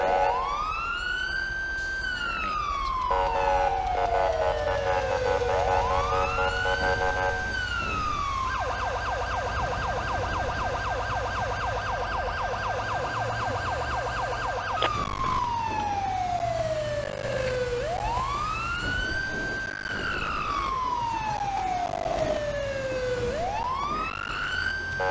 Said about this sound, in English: This is the siren that Cal Fire does use